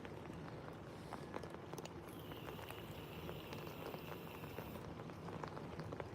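Steady rain patters around a train shelter, a soft continuous hiss of drops with occasional sharper taps, a faint high whine running through the middle.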